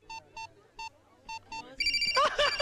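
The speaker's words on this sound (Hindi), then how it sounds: "मर गया मेरी बीवी का फोन।" A mobile phone ringtone announces an incoming call with five evenly spaced electronic beeps. A brighter, denser melodic ring follows them, loud and close, with no talking.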